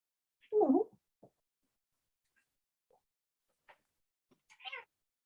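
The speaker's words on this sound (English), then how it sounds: "I hear a kitty." A cat meows a few times indoors, starting with one louder, drawn-out meow and followed by faint, sparse chirps and a final short mew, with quiet gaps between them and no talking.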